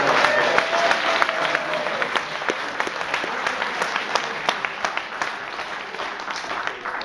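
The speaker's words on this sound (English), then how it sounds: "let's have one last round of applause for him as he's going up." A seated audience claps steadily for a departing speaker, a dense even wash of applause that holds for seven seconds and slowly thins toward the end.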